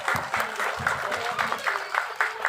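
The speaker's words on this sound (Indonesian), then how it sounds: "boleh tepuk tangan buat Umi Solehah" Children at a 10 Muharram charity gathering clap together for Umi Solehah, a steady rhythmic round of hand claps with a faint voice beneath.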